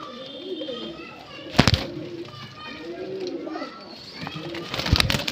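Highflyer pigeons coo in a market setting, low throaty calls repeating under the chatter of children and people talking nearby, with a couple of sharp clattering bursts.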